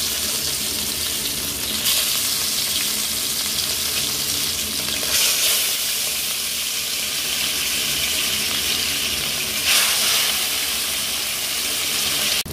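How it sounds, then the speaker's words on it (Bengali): Katla fish sizzles steadily in hot oil, a loud continuous frying hiss with brief surges of spattering, and no talking. "মাছটাকে আমি তেলে ছেড়ে দিলাম।"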